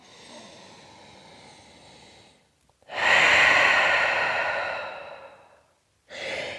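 Deep breathing during a downward dog pose in a Vinyasa yoga class: a long, soft inhale, a brief pause, then a loud, drawn-out exhale that fades, and another breath beginning at the end, heard up close with no talking.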